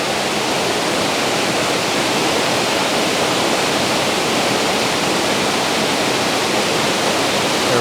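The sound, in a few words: waterfall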